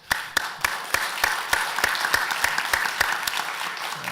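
A small conference audience claps steadily for a panel, distinct individual claps at an even pace, moderately near, lasting several seconds without talk.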